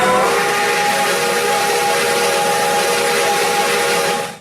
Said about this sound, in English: And this sounds like a very real steam engine